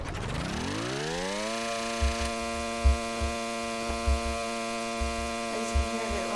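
A video game engine in Stormworks revs up and settles into a steady, high-pitched drone at very high RPM, with faint thumps under the continuous hum.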